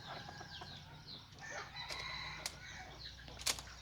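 Chickens on a Lao village farm with a jungle-fowl rooster and a brooding hen: clucks and short calls over a steady low hum, with a couple of sharp crowing bursts near the end.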